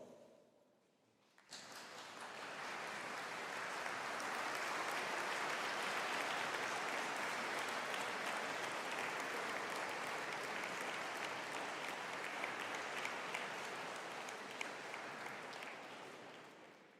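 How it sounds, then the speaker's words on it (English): Applause fills a graduation ceremony hall as a standing audience claps for parents and guardians, a dense, steady roar starting after a brief quiet moment and holding loud for about fifteen seconds before easing slightly. "give them a round of applause"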